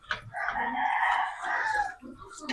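Chickens and a rooster on a home property, with a crow-like call rising and falling across a couple of seconds over faint background noise, fairly close and moderately loud.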